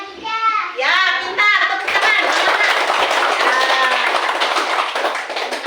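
Schoolchildren in a classroom clapping their hands after a classmate's answer, a loud close burst of many small hands clapping, with children's voices calling out at the start.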